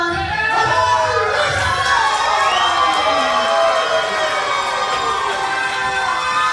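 A wrestling arena crowd at a televised show roars and cheers for a long-awaited debut, loud and sustained, with shouts and whistles rising and falling over the din.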